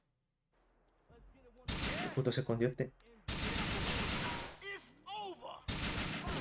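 Bursts of gunfire in GTA IV crackle loudly in quick volleys, mixed with someone talking over the action.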